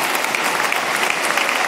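Continuous applause from a political party gathering, a dense crowd clapping steadily and loudly for the short stretch without pause.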